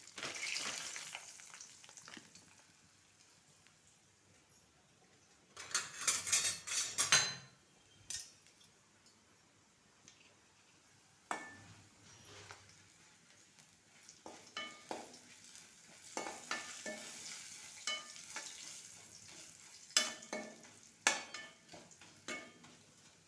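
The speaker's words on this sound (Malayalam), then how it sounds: "ആദ്യം കൈപ്പക്ക വെളിച്ചെണ്ണ നല്ലോണം ചൂടായതിന് ശേഷം തിളച്ചതിന് ശേഷം ഇടുന്നു." Slices of bitter gourd frying in hot coconut oil for kondattam, bursts of loud sizzling as pieces are stirred, with quieter crackling stretches between and occasional clinks of a utensil against the pan.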